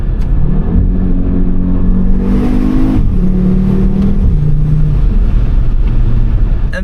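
Loud five-cylinder engine of a 2014 Audi RSQ3 compact SUV accelerating through rising revs, with a gear change midway and a deep rumbling drone continuing after, heard close with no speech.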